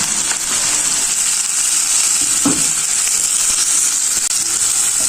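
Chopped green chilies and a large onion sizzle steadily in hot oil in a pan, a continuous bright frying hiss with a brief stir partway through, close and fairly loud with no talking.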